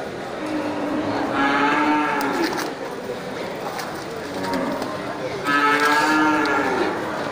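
An Aceh cow with her young calf moos at a livestock market in Geulumpang Payong, giving two drawn-out, fairly close lowing calls while people talk nearby.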